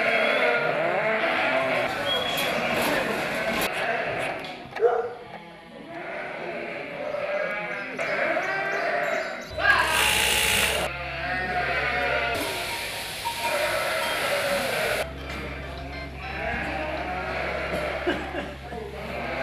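Sheep bleat loudly and repeatedly on a Sardinian farm at shearing time, close wavering cries overlapping one another, with some mechanical hum in the background.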